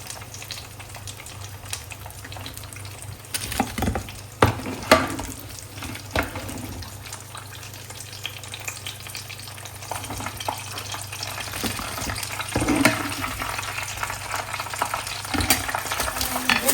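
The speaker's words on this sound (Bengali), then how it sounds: "এখানে চিকেন কাবাব ভেজে রাখছি" Chicken kebabs shallow-frying in a home kitchen, a soft sizzle with intermittent clatter and stirring knocks, fairly quiet and close, no talking.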